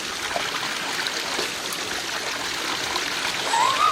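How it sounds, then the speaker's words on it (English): Natural spring near Merthyr Tydfil, water flowing in a steady, close, broadband trickling rush that fills the clip without pause. "I'm stood here next to a spring which is not far from Merthyr Tydfil"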